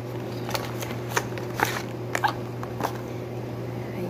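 A package from an online order being opened at home: faint crinkles and scattered light ticks and rustles over a steady low hum, quiet and close.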